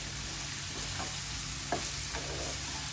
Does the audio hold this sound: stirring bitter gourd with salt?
yes